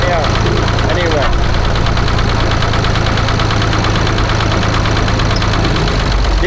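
A Ford 4000 tractor fitted with homemade tire chains chugs steadily and loudly up close, its engine knocking in an even rhythm throughout.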